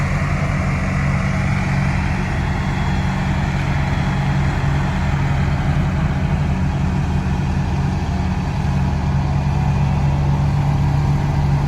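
A vehicle's engine runs at a steady, low idle-like rumble while moving a mobile home trailer, droning evenly and continuously with no pauses or changes in pitch.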